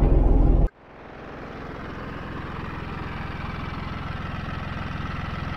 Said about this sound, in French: Donc voilà le tracteur et la rogneuse.